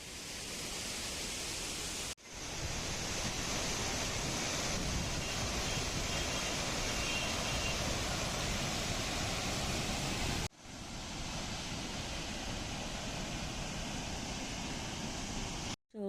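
Cheeyappara waterfalls in Munnar, Kerala, give a loud, steady, broadband roar of falling water that holds unbroken for the length of the recording, interrupted only by two abrupt momentary cuts; no voices are heard.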